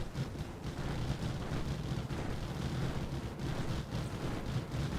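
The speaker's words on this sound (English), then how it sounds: "Oh, now they're in range of the gun turrets." Gun turrets fire nonstop at incoming enemies in GTA V, a dense, booming barrage of blasts rolling together with steady rumbling from start to end.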